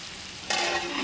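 Cornish chicken fries over an outdoor fire, a soft steady sizzle that suddenly grows louder and brighter halfway through, then keeps hissing evenly with no voices.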